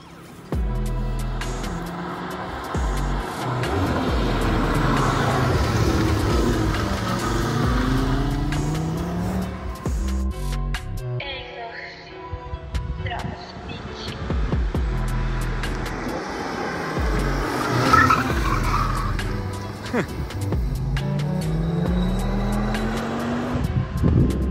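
A 2023 Audi RS3 makes repeated passes, its engine rising and falling as it accelerates and revs, loud and close with brief lulls between runs.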